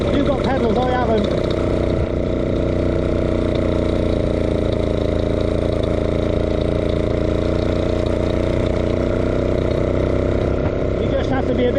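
Vintage motorcycle engine labouring steadily on a group ride in Banbury, a continuous close loud drone with the note holding under the run.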